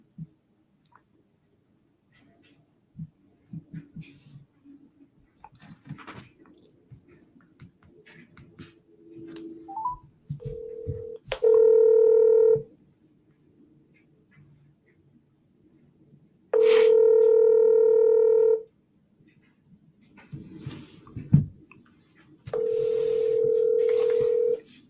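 A call to a mobile phone: quiet keypad taps and fumbling first, then three long, loud, steady ringback tones separated by pauses, with soft handling noises in between.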